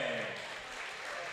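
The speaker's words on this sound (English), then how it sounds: "getting a well-deserved round of applause" Crowd at a high school boys basketball tournament game between Maysville and West Holmes applauding steadily in the gym, with talk over the clapping.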